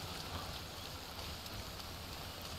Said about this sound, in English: It's raining like in real life and in the games.